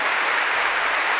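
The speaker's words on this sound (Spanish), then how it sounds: "Si ese aplauso fue para Cristo, fue un poco más." Congregation applause at a Catholic healing mass, a brief, loud, dense burst of many people clapping with no voices over it.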